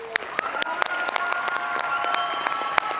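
Audience applause at a panel on parole and prison re-entry, dense steady clapping from a crowd with scattered sharper claps, fairly close and sustained throughout.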